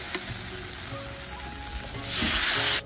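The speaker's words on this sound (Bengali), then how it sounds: "মশলাটা ভালো কষানো হয়ে গেছে, এখন আমি জল দিয়ে দেবো।" Water poured into a pan of fried spice paste with tomatoes for a bhangar fish curry, a soft stirring sizzle that bursts into a loud, hissing sizzle for the final second before cutting off.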